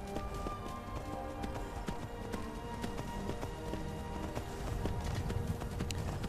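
Horse hooves clip-clop in a steady galloping rhythm while riding in the video game Skyrim, with game music and ambience underneath and no talk.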